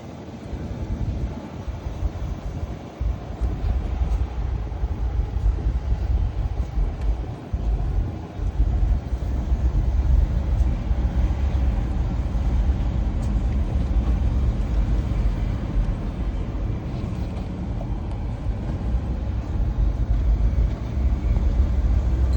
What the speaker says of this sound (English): So here we go with the driving video. We're going to do a little driving here in the neighborhood.